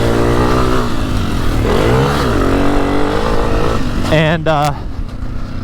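Honda CRF250F trail bike, a 2024 model, riding a motocross track, engine revving up and down with rising and falling pitch, loud and close, with a voice over the engine.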